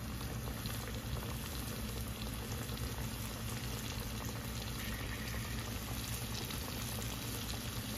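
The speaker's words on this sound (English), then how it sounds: "we're gonna drop the rest of them in. Get these babies frying." Steady, dense sizzling and bubbling of chicken frying in hot oil, continuous and unbroken throughout, with no voices.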